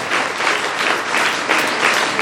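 An audience claps to welcome guests onto the stage at a teacher's retirement program, producing dense, continuous applause of many hands that rises and falls gently throughout.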